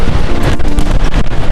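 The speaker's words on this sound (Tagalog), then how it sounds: "Malakas ang hangin" Strong gusting wind buffets the microphone on the Sigriswil panoramic suspension bridge in rainy weather, a loud continuous roar and rumble filling the whole moment with no voices.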